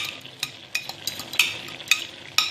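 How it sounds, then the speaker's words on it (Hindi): Yogurt goes into qeema mince frying in a pan, giving a faint sizzle punctuated by sharp, regular clinks and scrapes of a spoon stirring, with no talking. "अब हम इसमें डालेंगे दही"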